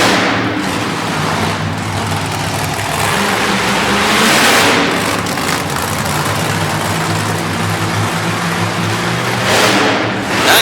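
A monster truck engine revving hard at an arena event in Harrisburg, Pennsylvania, with a possible transmission problem, giving a loud, continuous roar that swells and falls over a crowd-filled background.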